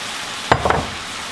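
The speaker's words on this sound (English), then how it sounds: "what we're going to do is add our onion and pepper and spices to the beef" Ground beef cooking in a pan as onion, pepper and spices are tipped in, giving a brief burst of sizzling and stirring scrapes for under half a second, then quiet.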